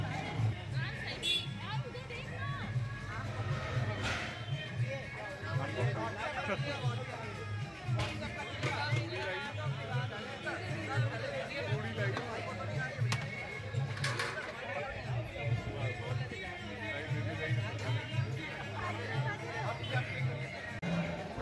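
A large crowd gathers at a Bada Mangal bhandara in Lucknow, where food is served, with a constant close babble of many voices and a few sharp louder calls rising over it.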